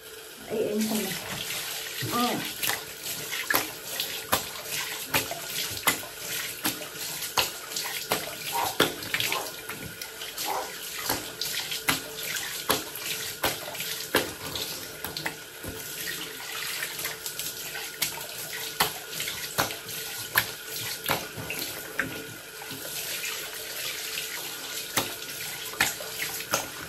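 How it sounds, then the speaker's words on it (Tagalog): Water runs steadily from a tap during a bath, a continuous splashing hiss lasting the whole stretch with small irregular clatters and knocks mixed in. "Basta may narinig siyang tagas ng tubig."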